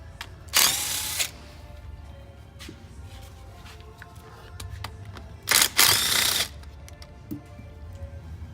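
A power tool spins out transmission pan bolts on a Nissan GTR R35, two loud whirring bursts of about a second each with quiet workshop ticks and clinks between them.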